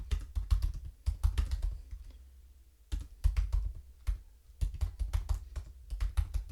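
Typing on a computer keyboard while entering a quote, heard as close, clear bursts of rapid key clicks separated by short pauses, with no voices.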